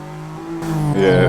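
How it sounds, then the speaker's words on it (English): Toyota Celica GT4 turbo engine in the Assetto Corsa racing game, held in second gear, its steady drone swelling into a louder, rising rush of spool and revs partway through. "hearing that turbo spool up and really just give you that good push"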